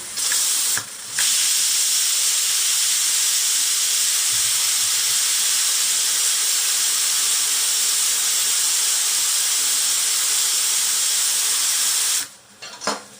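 Steam whistles out of a pressure cooker holding chicken rassa gravy in one strong, continuous hiss. The hiss breaks briefly near the start, then runs unbroken for about eleven seconds before dying away.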